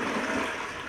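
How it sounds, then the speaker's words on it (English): Toilet flushing with a rushing gush of water, close and steady for a brief moment, no voices present. "People are flushing those down the toilet."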